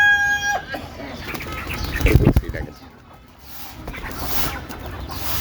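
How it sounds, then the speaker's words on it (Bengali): A sick chicken gives short, soft clucks while it is held and hand-fed, with a louder scuffle and flutter midway and someone talking over it. "মুরগিটাকে ধরে আপনারা দেখতে থাকুন আমি কীভাবে খাওয়াই দিই"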